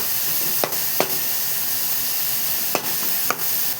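Garlic, green chilli and onion frying in hot oil give a steady broadband sizzle, with a few sharp spits and stirring knocks standing out near the start and end.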